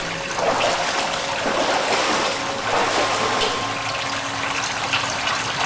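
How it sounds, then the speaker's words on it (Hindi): Steady rushing water flows through a gutter drain, a continuous broadband wash with a faint mechanical hum underneath, close and unbroken throughout. "इस गटर का पानी इस तरफ जा रहा है"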